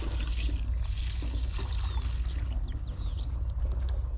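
Water poured into a pesticide sprayer tank for mixing on a farm: a soft, steady trickle and slosh under low rumbling background noise, continuous for a few seconds.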